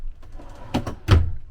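A solid, full-extension dresser drawer in a 2022 Benji 311BHS travel trailer slides and thumps, giving two quick close scrapes followed by a heavier knock, loud and near with no talk.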